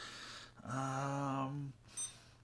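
A voice drawls a long imitation of a beep, then a digital scale gives a short, high electronic beep that chirps once.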